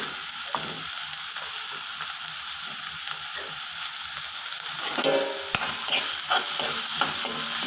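Chopped ginger and garlic sizzling in a pan for a chickpea curry, with a constant bright frying hiss and scraping stirs that grow louder and busier in the last few seconds.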